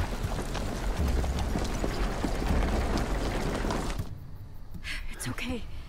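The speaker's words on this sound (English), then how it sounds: "Is that a horse?" Horse hooves clip-clopping in The Walking Dead video game, rapid, fairly loud hoofbeats that stop abruptly, followed by a quiet gap and a brief voice.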